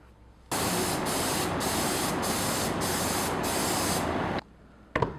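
A steady aerosol spray of liquid rubber coating onto a helmet hisses for about four seconds with slight pulsing, stops, then a short clatter follows.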